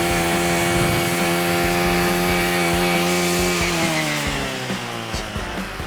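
Brush cutter engine running hard as its blade cuts into wood, a loud, close, continuous buzzing drone whose pitch sags slightly under load toward the end.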